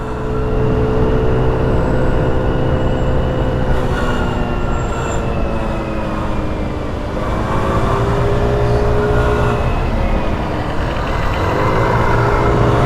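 A 50cc scooter engine at full throttle on a city road: a loud, close, continuous buzzing drone whose pitch rises and falls as the small engine revs.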